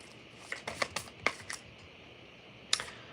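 Large tarot cards are shuffled by hand in a quiet room, giving a few soft riffling flutters and crisp snaps in uneven bursts, close and faint.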